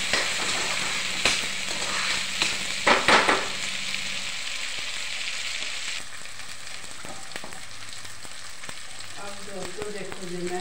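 Ginger garlic paste fries in a pan, giving a close, steady sizzle with a few sharp crackling bursts early on that then eases into a quieter, even hiss with light stirring.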